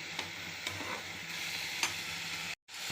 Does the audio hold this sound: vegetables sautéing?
yes